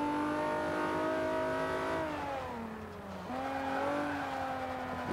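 Mitsubishi Lancer EVO 6 engine in Forza 5, a B-class all-wheel-drive build, revs hard and steadily, dips as it shifts gears midway and then climbs again, loud and continuous with no talk.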